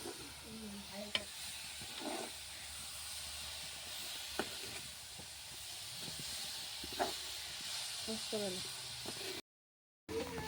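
Puli pitha dough fries in hot oil in a village kitchen, a constant loud hiss marked by occasional sharp utensil clicks, while voices talk nearby.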